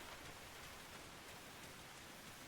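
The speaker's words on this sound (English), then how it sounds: "It's really raining." Steady, dense rainfall in the video game Arma Reforger, hissing evenly throughout, a constant wash of drops with no voices.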